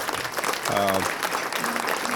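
Applause from diners at a chamber of commerce awards dinner runs through the moment, a dense patter with a voice talking briefly over it.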